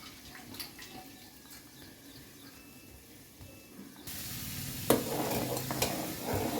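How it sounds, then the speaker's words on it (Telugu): Mixed ragi flour stirred into hot water in a pot: soft scraping and stirring with a low bubbling simmer, which swells into a louder, steady sizzling hiss partway through, with no talking. "రాగి పోసుకోవాలి. కలిపిన రాగి పిండి"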